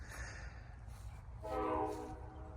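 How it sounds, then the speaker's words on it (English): A train passing in Climax, Georgia, a small railroad junction town, heard from a distance, with a low steady rumble and a brief tonal horn blast rising in the middle before fading. "There's that train we talked about."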